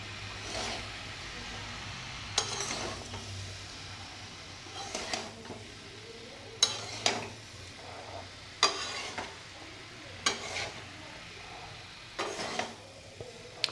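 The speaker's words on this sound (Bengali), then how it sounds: "মশলাটা দিয়েছি, দিয়ে এই মিশিয়ে নেব" Spices being stirred into a large batch of amla (Indian gooseberry) pickle in a pan, with repeated scraping strokes at irregular intervals over a soft background hum.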